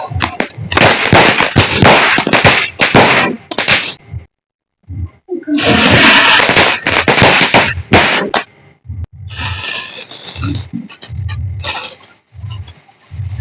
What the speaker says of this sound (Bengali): বন্ধুরা চারিদিকে বোম ফাটছে বন্ধুরা।